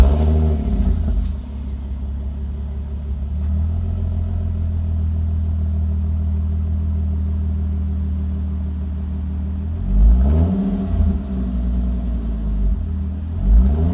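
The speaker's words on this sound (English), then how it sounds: "Last part of the clip is just a startup and a couple little revs so you can" An Infiniti Q50 3.7L V6 fitted with a NISMO Helmholtz intake kit idles with a steady low rumble, then gives a couple of short, loud revs near the end, heard up close with no talking.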